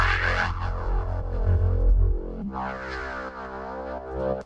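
A thick, layered synth bass drones with buzzy harmonic overtones, shifting pitch once midway and sustaining loudly before cutting off.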